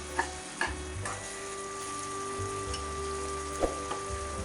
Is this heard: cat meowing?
no